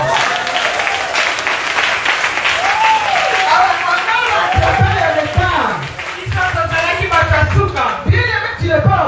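Audience applause fills a church, a dense continuous clapping heard close and loud, with voices talking and calling out over it as it carries on.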